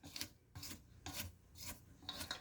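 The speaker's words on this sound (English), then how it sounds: "get you a spatula, rubber scraper, scrape down your sides" A rubber spatula scrapes the sides of a mixing bowl of peanut butter pie filling in four or five quick, rhythmic rasping strokes, faint but close, with no other sound.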